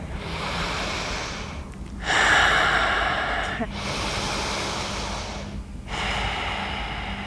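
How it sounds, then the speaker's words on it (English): Slow, deep breaths in a yoga flow class, long airy inhales and exhales close to the microphone in a steady rhythm, with short pauses between them. "Just take a couple of breaths here"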